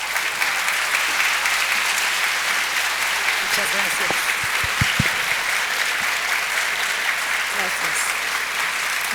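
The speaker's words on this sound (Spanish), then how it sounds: "Vamos a recibirla con un aplauso." Forum audience at a national tourism event applauding to welcome a special guest, broad sustained clapping throughout with a brief spoken thanks heard over it partway.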